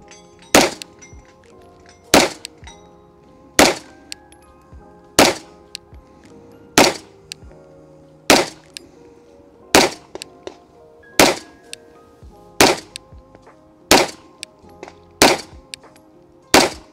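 Twelve evenly spaced loud gunshots from defensive 9mm ammunition fired at an armor panel, each a sharp crack with a metallic impact, about one per second and a half, with no talking.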